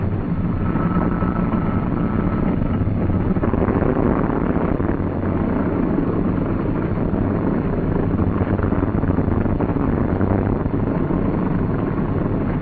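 Aircraft piston engine starting up and running, a steady loud broadband drone with a low rumbling tone throughout, no voices.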